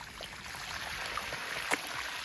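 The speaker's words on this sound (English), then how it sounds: "And that's the pipe that brings the water gravitically." Water pours steadily from a gravity-fed pipe, a soft continuous trickling rush heard faintly at some distance, with a few small splashes.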